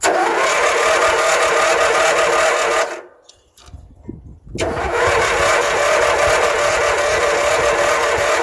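Craftsman zero-turn mower engine cranking and firing on its first start, a loud steady mechanical roar that cuts out briefly mid-way, then restarts and runs on evenly.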